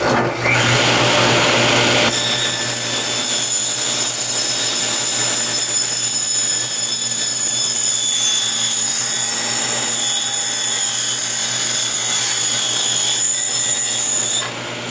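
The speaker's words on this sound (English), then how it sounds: "the center of the blade is 5/8 of an inch from the root fence, so that it'll cut right down the center of those holes" A table saw blade cuts lengthwise through wood, giving a loud, steady whining roar that holds for over ten seconds before dropping off at the end, with no talking.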